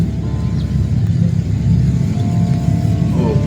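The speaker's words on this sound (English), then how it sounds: "Oh boy, we got a truck coming in." A truck approaches with a loud, steady, low engine rumble close by that builds slightly, alone with no speech.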